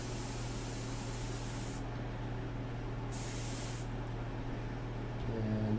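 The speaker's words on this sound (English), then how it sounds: "but I'll spray around it." Airbrush spraying ink on a portrait painting: a continuous close, soft hiss that stops briefly twice and resumes, with a faint hum underneath.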